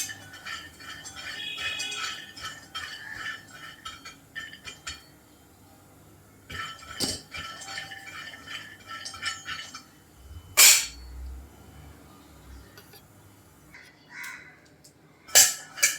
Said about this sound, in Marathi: आता आपण आधी शेंगदाणे भाजून घेऊया